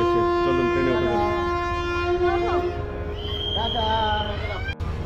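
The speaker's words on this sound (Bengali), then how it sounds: "ট্রেন ছেড়ে দিল কিন্তু আমাদের সাঁতরাগাছি স্টেশন টুয়ার্ডস দীঘার উদ্দেশ্যে" Train pulling out of Santragachi station bound for Digha, a steady loud rumble of carriages with long sustained horn tones sounding over it, close by and continuous for several seconds.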